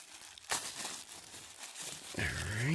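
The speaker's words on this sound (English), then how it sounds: "they taped it all up in here, so I'm going to have to tear this open" Taped-up cardboard packaging around a folded desk lamp being torn open by hand, a sudden ripping tear followed by rustling and crinkling, then a second louder tear near the end, close and without talking.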